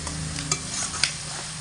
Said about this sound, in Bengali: এবার এগুলোকে আমি লো টু মিডিয়াম আঁচে রেখে মোটামুটি কষিয়ে নেব ততক্ষণ পর্যন্ত যতক্ষণ না এর থেকে তেল ছেড়ে আসছে